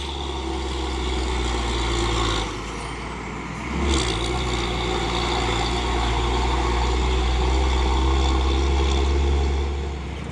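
A Hino 500 Euro 4 truck's diesel engine drones loudly and steadily nearby with a deep low rumble, a short hiss of air breaking in partway through before the engine noise swells again.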